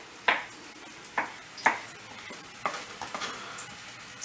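Peppers cooking in a pan for Turkish menemen, a soft background sizzle punctuated by several sharp clinks of a utensil against the pan, close and fairly quiet.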